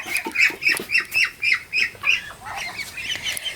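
Ducks on a farm quack in a quick rhythmic series of loud, nasal calls, close by, with more scattered quacks trailing off, in the rain.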